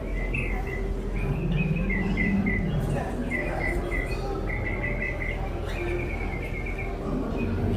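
Small birds chirp and tweet in short repeated bursts over steady indoor crowd murmur inside an animal exhibit at the Ark Encounter, the calls moderately close and layered among visitor noise.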